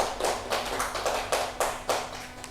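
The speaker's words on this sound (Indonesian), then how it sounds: "Benar, tepuk tangan untuk Mbak Ayu" Classroom applause for a student: a short run of quiet, evenly spaced claps with a steady low hum beneath, no voices.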